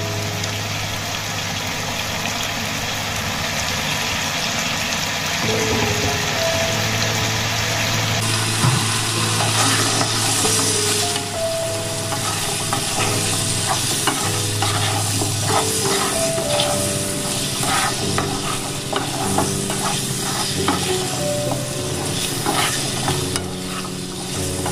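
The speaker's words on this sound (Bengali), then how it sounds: "এবার আলুগুলোকে খুব ভালো করে ভেজে নেব।" Potatoes fry in a pan with a strong, continuous sizzle while a utensil stirs and scrapes them at close range. A low steady hum runs underneath, and nobody speaks.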